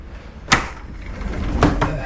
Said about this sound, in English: heavy duty sliding door with safety glass everywhere